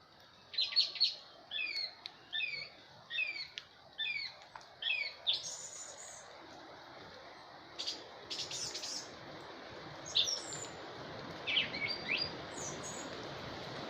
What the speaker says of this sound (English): And the birds, listen to the birds.